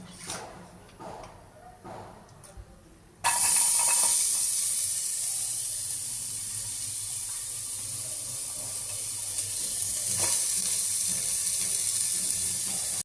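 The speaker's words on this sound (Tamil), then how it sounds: "ஸோ இப்போ நம்ம வந்துட்டு ஆனியனை ஆட் பண்ணிடலாம்" Onions dropped into a dry pan with no oil for a diet chicken gravy, giving a sudden burst of steady, bright sizzling and hissing that carries on loudly for about ten seconds after a quieter opening.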